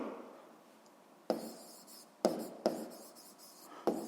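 A pen writes by hand in short bursts of scratchy strokes, four distinct clusters of close, quiet scribbling separated by pauses, with no talking.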